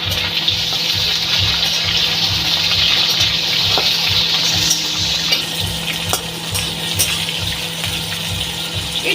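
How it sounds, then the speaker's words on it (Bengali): Bitter gourd frying in a pan in a home kitchen, a loud steady close sizzle and bubbling of oil with a low rhythmic pulsing underneath, continuing without pause and with no voices. "তাই এটা আমি ভেজে নিচ্ছি"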